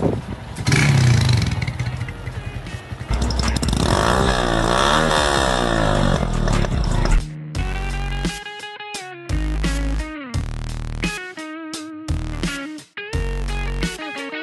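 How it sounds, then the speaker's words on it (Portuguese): A motorcycle engine roars loudly up close, then is blipped in a series of sharp throttle revs separated by brief near-silent gaps. "Tu pode dar uma acelerada nessa moto sua?"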